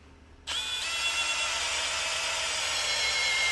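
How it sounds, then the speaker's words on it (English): An electric drill spins chainsaw cylinder bolts from a 500i in a workshop, switching on abruptly and holding a steady, close, high-pitched whirring whine to the end. "I just run this thing in real fast on a drill"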